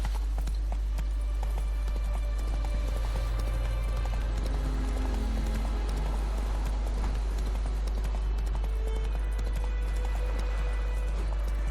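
In The Witcher 3 video game, Roach the horse gallops with rhythmic clip-clop hoofbeats over a steady low hum of game ambience, continuous and moderately loud throughout, with an occasional faint snort.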